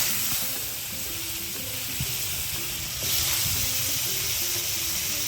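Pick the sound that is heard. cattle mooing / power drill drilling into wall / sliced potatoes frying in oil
sliced potatoes frying in oil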